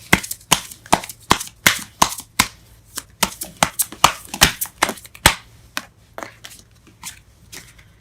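Tarot cards are shuffled and drawn in a run of sharp, crisp slaps and flicks, close up and fairly regular at first, thinning out toward the end.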